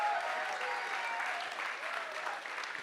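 Audience applause welcoming science slam performers onto the stage at a live event, a steady dense clapping from a crowd sustained at even loudness throughout, with no talk over it.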